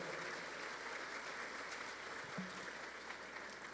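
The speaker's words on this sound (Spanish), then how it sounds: "¿Por qué no le da un fuerte aplauso al Señor?" A church congregation applauds during a sermon, a faint, distant wash of clapping that stays low and steady for a few seconds with no voices on top.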